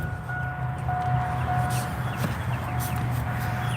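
Chickens clucking outdoors on a Nashville morning, a steady low murmur of fowl with a faint high tone in the background, no talking.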